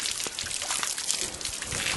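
Collected rainwater pours and splashes in a steady, close stream, a continuous watery hiss with small bursts of sloshing, used for rinsing tools.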